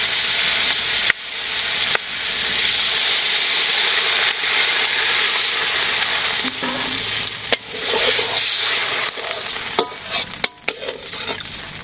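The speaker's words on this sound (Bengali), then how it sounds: "তরকারি কষানো হয়ে গেছে, এখন একটু ঝোল দিয়ে দেবো।" A hot pan of sautéed curry hisses and sizzles loudly as liquid is poured in, a dense steady frying roar that settles toward the end with a few clinks of stirring, close up.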